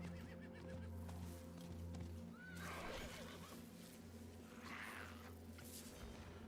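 In the Diablo 4 video game, a horse gives a couple of clear whinnies over a steady low mechanical hum, with soft hoof clops and no talking.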